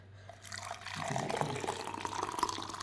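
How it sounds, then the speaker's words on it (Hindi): Hot water poured from above onto a spoonful of triphala powder in a cup, a splashing, gurgling pour that swells from a trickle and holds steady for a couple of seconds. "अब इसमें गर्म पानी डाल दें"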